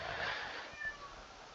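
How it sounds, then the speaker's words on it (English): Pet cat meowing for more food indoors: a drawn-out, faint meow, fairly quiet in the room, with no talk over it. "Sorry, that's my cat."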